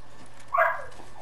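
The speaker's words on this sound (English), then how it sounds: "Is that a pig?" Pig grunting in the Fortnite video game, a single short mid-pitched grunt or squeal lasting about half a second, fairly loud over a steady background hum with no talk.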